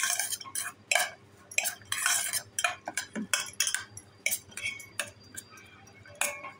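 A spoon stirs a roasted makhana chaat mixture with salt in a bowl, clinking and scraping in quick, uneven strokes that stay close and fairly loud.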